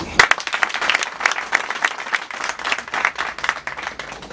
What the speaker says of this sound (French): Je vous prends l'applaudissement encore pour elle.